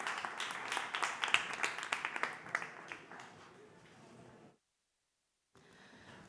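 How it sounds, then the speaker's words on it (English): A conference crowd at South Summit 2019 claps for a financing panel coming on stage, a fairly faint, continuous patter that fades out, followed by silence and then quiet room noise. "Give them a big round of applause."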